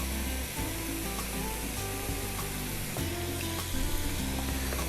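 Mushrooms, onion and garlic sizzling in a pan, a close, continuous crackling sizzle under a low steady hum, with no talk.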